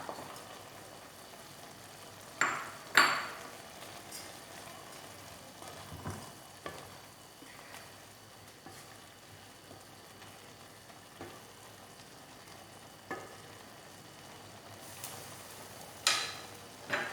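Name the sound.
roasted oats added and heated in pan for vegetable upma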